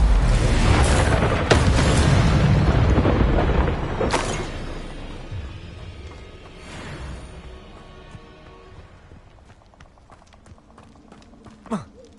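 An Expulso spell in Hogwarts Legacy lets off a loud, booming explosion that rumbles at first and then slowly fades, with scattered small clatters and a short pop at the end.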